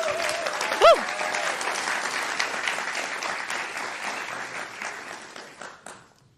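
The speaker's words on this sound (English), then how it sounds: "Big round of applause, please." Audience applause at a food systems event, a dense sustained wash of many hands clapping that fades toward the end, with a brief voice or tone near the start.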